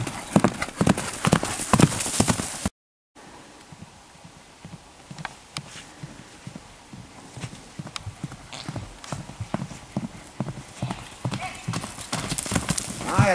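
A pony canters over a cross-country course, its hoofbeats landing in a steady rhythmic clip-clop at moderate distance, broken by a brief gap, while a coach talks over the sound.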